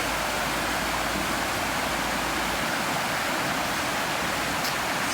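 The flooded Arroyo Del Valle Creek in Pleasanton rushes at full volume, swollen like a river, a loud, dense, unbroken roar of churning water close by with no voices.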